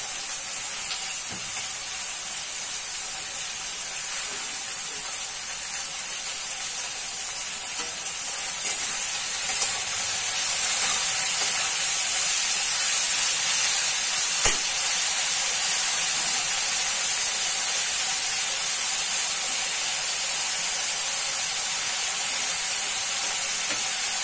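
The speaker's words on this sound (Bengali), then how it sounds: "পেঁয়াজ দেওয়ার সাথে সাথে আমি এতে পরিমাণ মতো চিনি আর পরিমাণ মতো লবণ দিয়ে দেবো, দিয়ে পেঁয়াজটাকে ভাজবো" Onions frying in oil with sugar and salt for a chicken curry, giving a steady, even sizzle and hiss that runs without a break throughout, with no voices.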